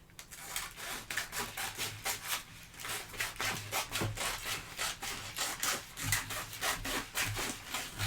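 A wooden sign piece being trimmed by hand, heard as a close, steady run of rasping, scraping strokes against the wood that repeat rhythmically throughout with no pauses or talking.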